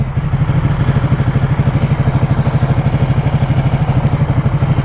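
Ducati Panigale 1199 twin-cylinder sportbike idling close up, a steady, loud, throbbing low pulse with clattery mechanical texture and no talk while it is clicked into neutral.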